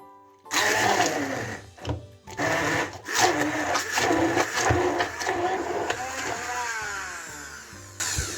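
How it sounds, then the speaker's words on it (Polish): A blender whirs loudly and steadily for several seconds, blending boiled, seeded oranges, its motor pitch wavering as contents churn, with brief pauses between pulses. "usuwamy pestki i blendujemy pomarańcze"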